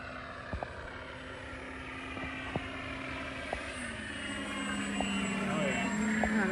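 A Carbon Z T28 super-scale RC plane flies slowly with its flaps down, its motor giving a steady, moderately distant drone that holds for the whole stretch and shifts slightly in pitch partway through.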